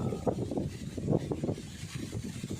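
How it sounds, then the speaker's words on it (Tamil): Wind blows hard across a growing rice paddy field, a continuous buffeting rush with gusty low rumbles, like wind striking the microphone, throughout the short stretch. "காற்று மேலே காற்று ஆடி காற்று வீசுது என்ன வேகம் அட்டிக்குது பாருங்கள்"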